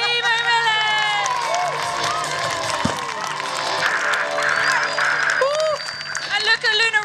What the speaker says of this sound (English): Give a big cheer for Leigh McMillan!